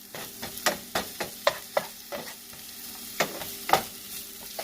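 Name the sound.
onion toasting in oil in a pan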